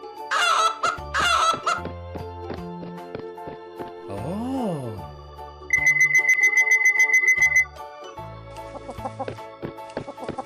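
Cartoonish chicken clucks and squawks from an animal painting video game, mixed with synthetic game jingles, chimes and a steady electronic tone, loud and close.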